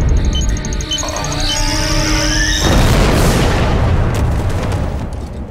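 A big animated explosion from a Star Wars Rebels cartoon booms out after a whirring build-up, then a loud roaring blast decays slowly.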